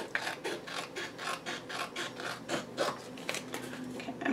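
Rhythmic rasping strokes of thin photo paper being trimmed to a narrow border, repeated scraping cuts at a steady pace, close and fairly quiet with no talking.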